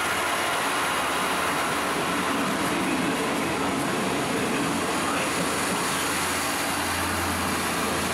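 A Br643 Talent regional train on the Lahntal line at Limburg station, a steady loud rumble of running gear and engine with a low droning hum filling the whole stretch, no voices.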